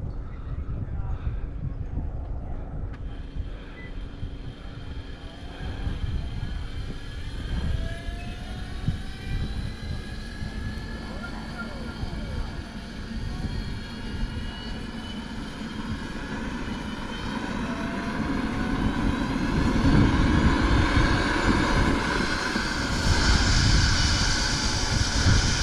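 An MD 600N radio-controlled model helicopter's turbine idles on the ground outdoors at an evening flying event, a steady close whine with rising tonal lines over broadband rumble that swells louder toward the end.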